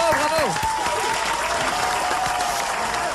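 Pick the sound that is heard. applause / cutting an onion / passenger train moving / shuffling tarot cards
applause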